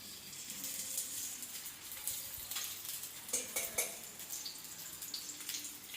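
Raw banana cutlets fry in oil on a hot griddle, giving a steady soft sizzle with a few scattered crackles and pops, close and fairly quiet, with no talking.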